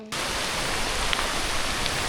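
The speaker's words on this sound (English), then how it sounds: "rain keeps going and going and going. Look at it." Heavy rain pours steadily over a homestead with red clay ground, a dense continuous hiss starting abruptly and holding loud and even throughout, with no voices.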